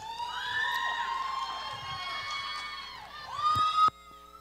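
An audience at a school talent show cheers, with high children's shouts and whoops swelling into a loud, sustained crowd roar that builds and then stops abruptly.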